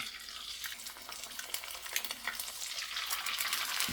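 Eggs sizzle and fry in a hot pan after a seasoning of onion powder and salt, a steady crackling hiss with faint stirring scrapes and no talk.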